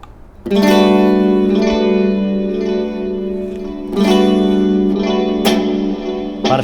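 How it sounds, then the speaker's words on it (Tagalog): Electric guitar, a Telecaster, played through an Ernie Ball Ambient Delay pedal set to hall reverb: loud sustained chords with a long, washy reverb tail, restruck twice with sharp attacks. "It's a hall reverb."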